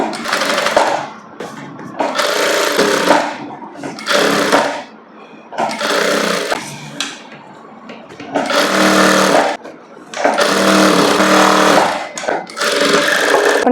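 A tailoring sewing machine stitches a princess cut blouse in loud, rattling bursts of a few seconds each, separated by brief pauses where the fabric is shifted.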